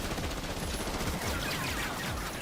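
Rapid gunfire from a crime boss's men attacking in an anime fight, a dense, continuous barrage of loud, overlapping shots with no pauses.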